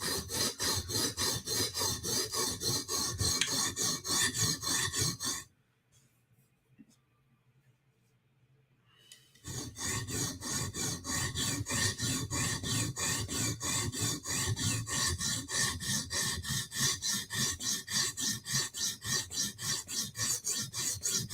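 A knife blade is sharpened at a set angle with steady, rhythmic rasping strokes on a sharpening stone, close and loud, pausing briefly midway before the strokes resume.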